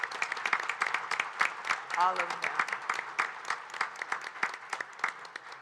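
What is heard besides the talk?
audience applauding clergy, sponsors and civic leaders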